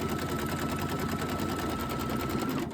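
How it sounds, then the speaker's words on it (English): A sewing machine stitches fabric for a quilted cushion block, a fast, steady mechanical whirring heard up close and alone for nearly three seconds before easing off. "And now it's going to stitch it down."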